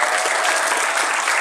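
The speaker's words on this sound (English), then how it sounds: "please, guys, a round of applause for our guest of honor" An audience at a furry convention's opening ceremony applauds a guest of honor, a loud, dense and steady wash of many hands clapping at close range, heard alone without speech.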